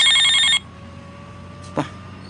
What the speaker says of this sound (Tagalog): May nagpapanahog sa cellphone ko.